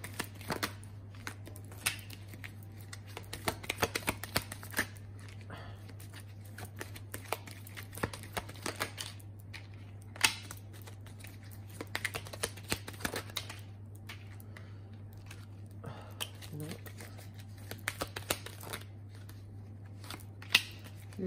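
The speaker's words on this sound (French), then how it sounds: "je vais retirer 3 cartes de plus pour voir, excusez-moi, 3 cartes en plus pour voir l'état d'esprit de la personne qui est en face de vous" Tarot-style cards drawn and laid down one by one for a Chinese astrology reading, giving soft intermittent rustles, snaps and shuffles close by over a steady low hum, with no talk.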